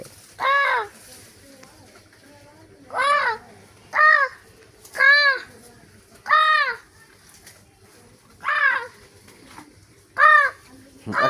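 A chicken clucks and calls in short, separate bursts, about eight of them spaced a second or two apart, fairly close and clear against quiet surroundings.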